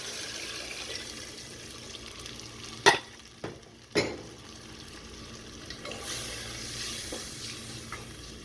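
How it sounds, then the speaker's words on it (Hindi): Water is poured into sizzling biryani masala frying in a pan. Continuous frying hiss is broken by a few sharp splashes and bursts as the water hits the hot oil, then the sizzle settles and swells again. "अब मैं इसमें डालूँगी पानी, जो कि है 3 पाव।"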